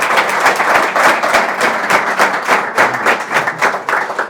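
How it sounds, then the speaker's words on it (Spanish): Audience applause after a Spanish-language Value School investing talk, a steady burst of many hands clapping close and loud, with sharp individual claps standing out in a continuous rhythm and no voices. "Se merecen un fortísimo aplauso, por supuesto."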